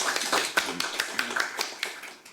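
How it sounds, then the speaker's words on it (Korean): Audience applause at a panel forum on wedding industry fair trade, a steady patter of many hands clapping at moderate distance for a couple of seconds, with no voices over it. "고영석 교수님 다시 한 번 더 큰 박수 부탁드리겠습니다"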